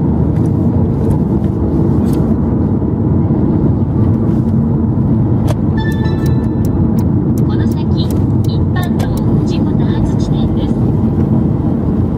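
A Subaru WRX with a manual clutch drives along city streets on the way to a dealership, its engine giving a steady, continuous low drone throughout with road noise beneath and a few brief clicks and faint ticks over it.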